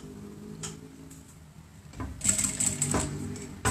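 Sewing machine stitching the seams of a double-layer fabric child's face mask: brief bursts of rapid mechanical clatter that start and stop, close and moderately loud, with faint handling noise between runs.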